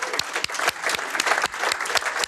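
Applause at a live podcast recording at the 31C3 hacker congress, celebrating news that a host is becoming a father. Sharp individual claps stand out above a dense, steady clapping crowd, close and loud, with no voices.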